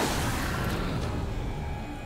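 A gunshot in the Alan Wake video game, a dense boom at the start that rings out and decays over about two seconds with a roomy, rumbling tail.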